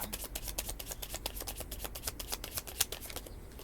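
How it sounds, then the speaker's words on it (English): Tarot cards being shuffled rapidly by hand during a reading, a dense run of crisp riffling flutters close up, steady and continuous with no talking. "I'm shuffling these cards like crazy"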